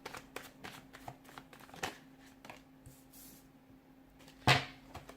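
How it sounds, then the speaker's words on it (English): Soft riffling and tapping of tarot cards being shuffled, quiet and close, ending with a sharper brush of paper. "give the cards a shuffle"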